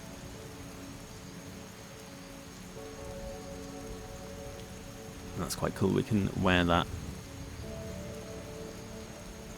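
Steady rain falling in the Skyrim video game, a constant soft hiss that continues throughout, with someone talking over it partway through.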